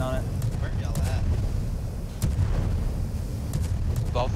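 Cannon fire in a Borg space battle video game, heavy booming shots mixed with other game effects under steady talk from players.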